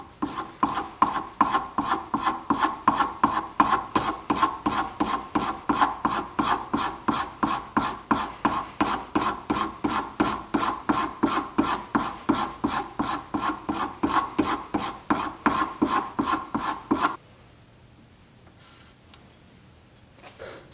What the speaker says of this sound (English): Hold your chisel bevel down and just do like 50 strokes.